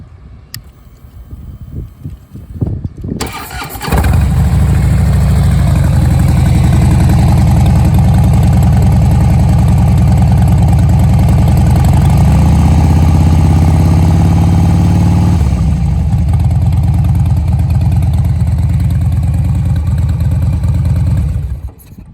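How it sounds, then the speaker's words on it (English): A 2012 Harley-Davidson Dyna Wide Glide with a Screamin' Eagle exhaust cranks and fires up, then settles into a loud, deep, throaty idle with a rumbling, aggressive note that holds steady before cutting off. "And that was the Screamin' Eagle exhaust you just heard."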